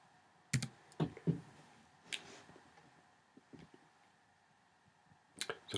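A few sparse keypresses on a computer keyboard while entering numbers into colour settings in Photoshop, faint and scattered with quiet gaps between the clicks.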